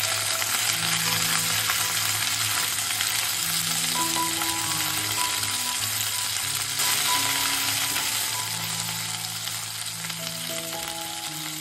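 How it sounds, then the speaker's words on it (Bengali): Green beans (shim) fry in a pan with a constant close sizzle and crackle, a few steady tones humming faintly underneath. "এদিকে শিমটা আমার ভাজা ভাজা হয়ে গেছে"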